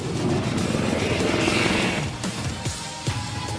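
An IAF LCH Prachand attack helicopter roars nearby, a loud, dense rotor and engine rumble that holds steady, then thins out with a few sharp low thuds toward the end.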